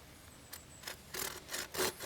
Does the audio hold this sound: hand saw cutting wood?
yes